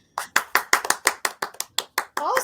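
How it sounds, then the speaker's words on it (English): Audience applause effect played from a soundboard: about a dozen crisp, evenly spaced claps, close and fairly loud, ending in a brief rising cheer-like swell. "on your soundboard, do you have the F1 button, which is the audience cheer, the applause?"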